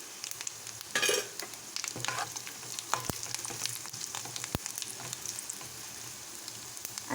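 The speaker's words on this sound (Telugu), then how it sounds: "కరివేపాకు ఒక 10 సెకండ్స్ ఫ్రై అయిన తర్వాత 1 టీ స్పూన్ పసుపు వేసుకొని కలుపుకోవాలి" Curry leaves and turmeric sizzle steadily in hot tempering oil for a cucumber roti pachadi, with a few sharp stirring scrapes and clinks near the pan and no voices.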